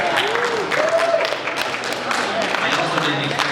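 A convention panel audience cheers and applauds for the game Godzilla Unleashed Double Smash, a dense crowd wash of clapping and voices under a speaker's talk.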